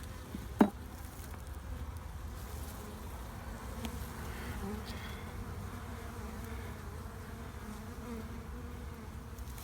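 Honey bees buzzing from a small nucleus colony opened for inspection on a February day: a faint, steady low hum throughout, with one sharp knock near the start.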